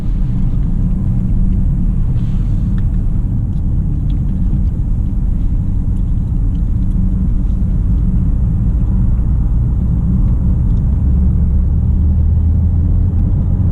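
Cabin of a 2018 Land Rover Discovery TDV6 SWB HSE Luxury on the move, a constant loud low rumble of diesel engine and road noise with steady broadband hiss, no talking.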